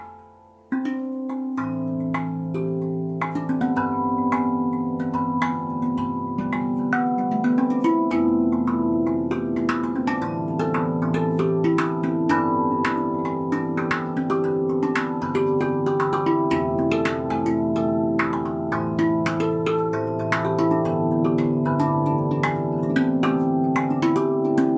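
A handpan or RAV Anima steel tongue drum is played with a groove and melody, rhythmic struck notes ringing with long sustain that builds into a dense, layered wash of tones, steady and close.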